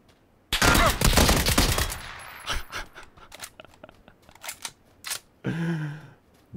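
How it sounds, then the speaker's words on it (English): Full-auto VSS rifle fire in the video game PUBG: a dense, loud burst of rapid shots, then scattered single cracks and impacts, with a brief voice near the end. "Full auto VSS!"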